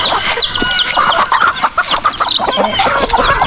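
Chickens, including roosters, clucking loudly and close on a farm, a busy overlapping flock with rapid squawks and clucks throughout, no talking.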